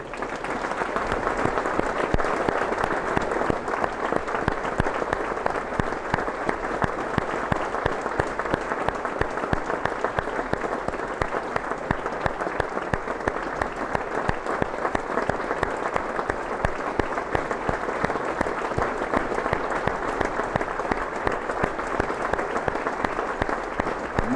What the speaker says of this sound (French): Je vous demande une minute d'applaudissement pour eux.